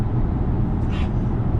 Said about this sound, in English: There's a bit of road noise and a bit of wind noise, but